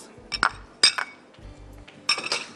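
Cadbury Dairy Milk chocolate with chocolate bubbles is snapped by hand into a bowl, giving three sharp clusters of crisp clinks and cracks separated by short pauses.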